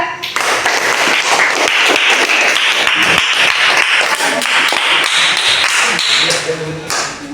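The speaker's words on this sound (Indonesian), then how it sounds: "Tepuk tangan untuk kelompok 2." Classroom students clap for a presenting group during a social studies lesson, a dense run of close, sharp claps across the whole stretch that tapers near the end, with some voices mixed in.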